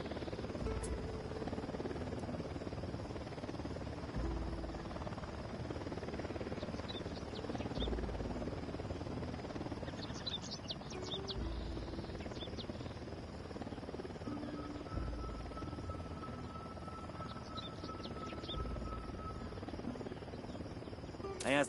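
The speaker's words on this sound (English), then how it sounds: "helicopter incoming." A helicopter's rotor drones steadily throughout in the video game Get.SOME!, fairly quiet and distant, with faint insect-like chirping above it.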